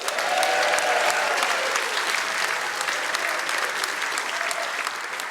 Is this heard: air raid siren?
no